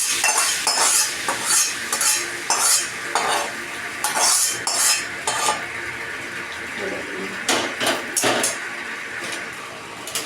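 A spice tempering with asafoetida poured into a wok of vegetables for Jagannath bhog muhuru, a sizzle followed by repeated clinking strokes of a metal spoon stirring against the pan, close and fairly loud.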